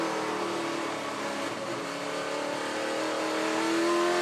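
A touring race car engine suffering a fault drones and revs steadily at Queensland Raceway, a sustained rough mechanical tone with a faint rising pitch, heard alone without talk.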